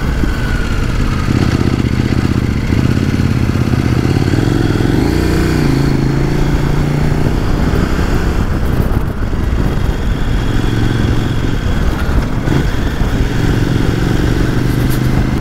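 KOVE 800 X Pro motorcycle being ridden on the road, a loud continuous engine drone with rising and falling revs and heavy wind rush throughout, recorded from the bike itself.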